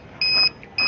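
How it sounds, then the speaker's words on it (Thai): The remote unit of a TEXNO motorcycle alarm on a Yamaha Lexi 125 gives two sharp electronic beeps, close and clear, with a short gap between them. "เริ่มมาแจ้งเตือนที่ตัวนี้ตัวรีโมท"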